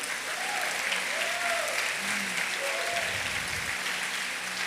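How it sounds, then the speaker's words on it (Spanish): Many hands clap continuously as a church congregation applauds at a Christian service, a sustained, even roar of clapping with faint voices calling out beneath it. "Alguien aplauda al Señor"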